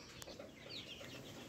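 Young chickens and a rooster in their home coop give soft, faint clucks at a distance, over a low background hiss.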